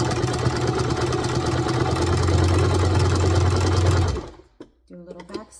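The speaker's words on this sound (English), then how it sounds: "I'm gonna back stitch a little." A sewing machine stitches a zigzag and then a short back stitch, a steady close motor whir that runs for about four seconds, stops, and is followed by a few soft clicks and handling noises.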